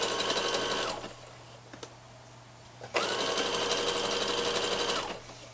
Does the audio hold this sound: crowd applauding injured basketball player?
no